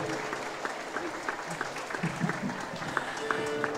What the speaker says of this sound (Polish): Wielkie brawa, Klaudia Trzasko